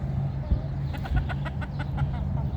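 Hens clucking inside a winter chicken coop, with a rooster among them, a run of short, close clucks and calls over a steady low hum.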